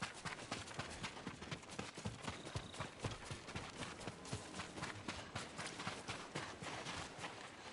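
Horse hooves clip-clop in a steady, fairly quick rhythm as horses are ridden over ground in the samurai game Ghost of Tsushima, close and continuous throughout with no talking.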